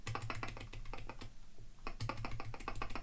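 Rapid clacky keystrokes from a NuPhy Gem80 custom mechanical keyboard, close and continuous, with a brief lull in the middle before the fast typing resumes.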